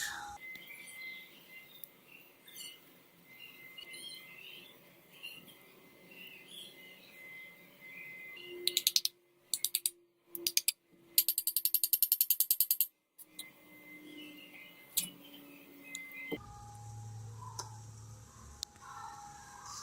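Hand tools clatter and ratchet in quick metallic bursts while an induction motor converted into a generator is taken apart, with soft birdsong carrying on in the background.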